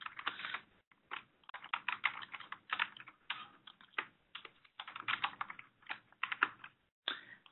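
Fingers type in bursts on a computer keyboard to fill in account fields, rapid close clicking with short pauses and no voices.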